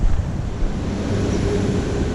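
Strong southerly wind buffets a microphone at a Sydney shoreline, a steady loud low rumble of gusts mixed with faint surf wash.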